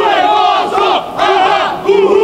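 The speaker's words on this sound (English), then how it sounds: "I don't even know if you can hear me over this crowd." A packed crowd roars and cheers loudly on the floor of a Magic: The Gathering Pro Tour card game tournament, a sustained wall of shouting voices with surging peaks.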